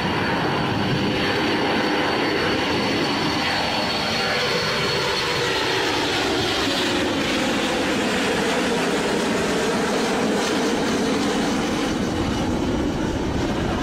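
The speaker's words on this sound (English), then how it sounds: "This Boeing 707 flying really low." A loud, roaring Boeing 707 jet passes low overhead, its pitch sweeping downward as the heavy roar fills the whole stretch without pause.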